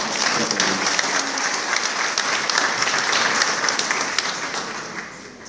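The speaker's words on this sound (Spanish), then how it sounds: "Aquí les pido por favor un poco de aplauso a todos" Steady applause from an audience at a formal ministry event, dense continuous clapping at an even level for several seconds before tapering slightly at the end, with no voices over it.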